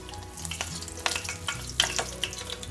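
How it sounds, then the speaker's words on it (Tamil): Garlic frying in olive oil in a nonstick pan, a steady close sizzle broken by bright crackles and pops as it is stirred. "பூண்டு ஆட் பண்ணிடுறேங்க."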